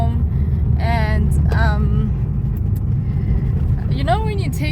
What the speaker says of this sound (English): So we're in the car, we're on our way home